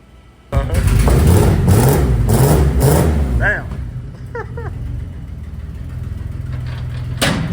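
An old Toyota engine roars up loudly and holds at high revs, then settles into a steady idle, with a few brief vocal chirps over it.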